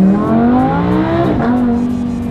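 A Lamborghini with 145,000 miles accelerates hard, its engine note rising steadily in pitch, loud and close, with a brief dip as it shifts before pulling again; no talking.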